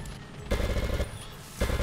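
A full-auto cannon fires rapid rhythmic bursts in Plants vs. Zombies: Garden Warfare 2, two quick strings of thudding shots separated by a brief pause, fairly quiet and without speech.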